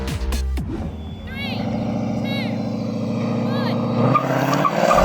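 A Ford Mustang V8 and a BMW 3.0 CSL launch in a drag race, engines roaring and revving hard with a loud sustained drone and rising pitch, brief tire chirps, and faint voices underneath.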